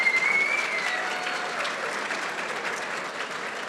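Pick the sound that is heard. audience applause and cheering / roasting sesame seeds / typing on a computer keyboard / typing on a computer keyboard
audience applause and cheering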